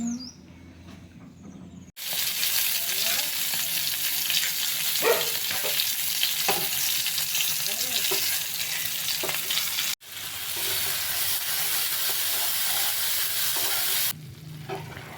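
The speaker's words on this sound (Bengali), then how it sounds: "তো এদিকে আমার মশলা কষানো হয়েই গেছে" Spices being fried in a pan for prawn malai curry, a steady loud sizzle and hiss with stirring scrapes, breaking off briefly twice before resuming.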